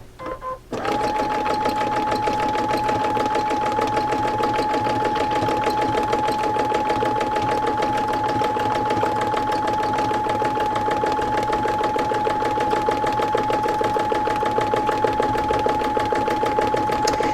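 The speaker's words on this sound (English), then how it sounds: "Doing little circle stitches again." Sewing machine running steadily for free motion embroidery, stitching small circles with the presser foot down, a continuous close mechanical whir with a steady high tone and no talking.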